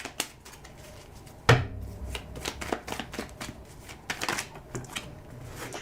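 Tarot cards being handled, shuffled and dropped on a table: a sharp clack near the start, then a steady run of crisp close-up riffles, flicks and taps with no talking.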